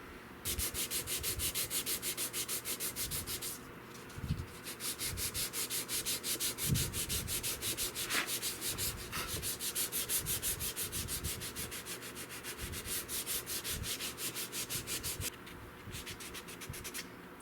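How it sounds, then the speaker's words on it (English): Wood rifle stock from a Cooper M38, chemically stripped, being hand-sanded in fast even back-and-forth strokes, close and continuous with two brief pauses, no talk. "Chemically stripped. You still have to sand."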